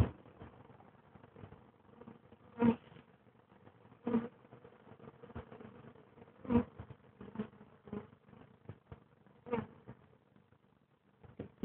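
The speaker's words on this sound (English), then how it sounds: "See the bees still all buzzing around." A honey bee swarm hums and buzzes around a black rock outdoors as it settles, with a soft, continuous drone, individual bees passing close by, and occasional brief louder whooshes and taps.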